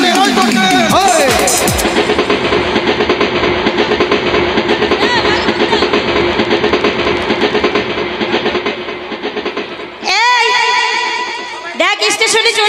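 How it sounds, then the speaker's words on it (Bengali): A train pulls into a station with loud rumbling wheels, rattling cars and a sharp squeal near the end, close and dominant, while people talk over it. "চলেন চলেন, ওই তো ট্রেন।"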